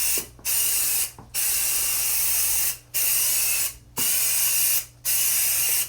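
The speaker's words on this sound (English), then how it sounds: "let me show you how to spray the carpet." Bed bug insecticide sprayed onto a carpet in repeated close bursts of steady hiss, about five long sprays separated by short pauses, with no talking.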